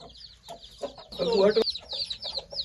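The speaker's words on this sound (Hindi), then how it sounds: "ये इस रत्ते दे बच्चे ने वडी चीनी कुकड़ी है।" A Chinese-breed hen with ten chicks clucks in a short low burst at close range, while the chicks peep in high, rapid chirps throughout.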